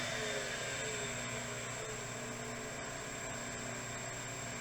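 A Hardinge Omni Turn CNC lathe spindle hums steadily with a high whine and broad machine noise, holding a near-constant pitch throughout with a faint shift in tone as the speed changes.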